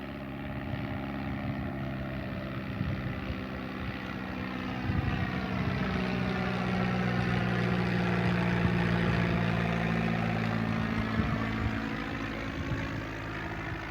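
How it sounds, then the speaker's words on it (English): A propeller airplane practicing landings near an airport drones steadily overhead, its engine tone swelling gradually and slowly shifting pitch as it approaches at a moderate distance, with no voices. "planes are doing a loop. I think they're just practicing landing, so we'll get this one as it comes in"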